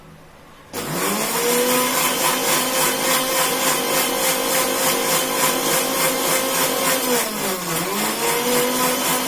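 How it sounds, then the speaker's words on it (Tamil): A kitchen blender grinds spicy pasta sauce ingredients with a loud, steady motor whine that starts abruptly, dips briefly as the load shifts, then recovers and runs on without talk. "இப்போ நம்ம இதை அரைச்சி எடுத்துக்கலாம்"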